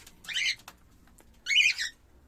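Rainbow budgerigars kept for breeding give two short bursts of chirpy, squawking calls separated by a pause, fairly close and clear against a quiet room.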